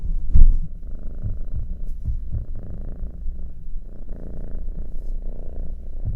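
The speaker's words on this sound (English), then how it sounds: "on my lap where he's purring up a storm" A cat purrs on a person's lap, a close, loud, continuous rumbling throb with steady rhythmic pulses, heard alone with no voices.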